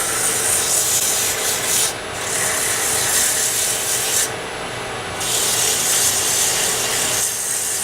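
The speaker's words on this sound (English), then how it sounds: "take a piece of fairly coarse sandpaper and just sort of blend out any of my tool marks that I might have put in there" Coarse sandpaper is held against a pen blank spinning on a lathe, giving a steady loud rasping hiss that briefly drops away twice as the paper is lifted.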